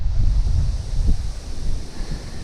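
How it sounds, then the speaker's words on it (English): Steady wind buffeting a microphone outdoors on a hiking trail, a continuous loud low rumble with fluctuating gusts throughout. "And of course, as soon as I turn the camera on, the wind picks up."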